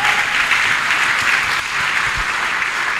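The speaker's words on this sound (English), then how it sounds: "can you clap for Jesus Christ?" Loud, sustained clapping from a church congregation praising Jesus Christ, a dense wash of many hands close by that continues evenly throughout.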